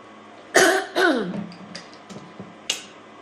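Two sharp throat-clearing coughs come close together, followed by a few small throat noises and a final brief hack, all near and fairly quiet.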